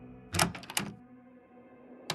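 In the video game Frequency Missing, the lounge door opens with a cluster of sharp mechanical clacks and thunks, followed by a pause and one more distinct knock near the end, heard alone and fairly close.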